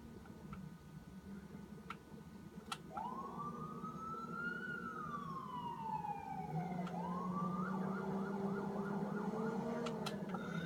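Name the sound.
police car siren in video game Watch Dogs 2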